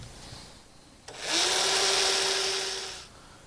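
A power drill whirs up for about two seconds at a steady high pitch, close and fairly loud, then winds down.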